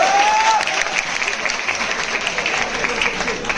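An audience at a farewell gathering claps steadily and densely for several seconds, with a brief voice at the start.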